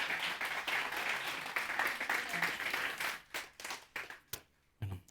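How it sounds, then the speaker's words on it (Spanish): A church congregation applauds in praise after a sermon, dense clapping for about three seconds, then fading into a few scattered claps and a final lone clap. "regalémosle una ofrenda de palmas al Señor por esta palabra"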